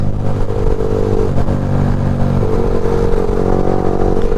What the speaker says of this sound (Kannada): ಆಮೇಲೆ ಅದು ಸೈಲೆನ್ಸರ್ ಇನ್ನು ಸಕದ ಮಾಡೋ ಹೆಂಗೈತೆ ನೋಡು ಗುರು